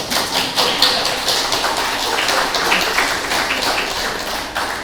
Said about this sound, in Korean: 야, 이러면 박수 나와야 돼요, 보통.